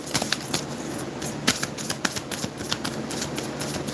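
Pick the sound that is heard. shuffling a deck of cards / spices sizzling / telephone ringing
shuffling a deck of cards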